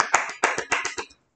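A child claps hands six or seven times in quick, slightly uneven succession, sharp and close in a quiet room, then stops.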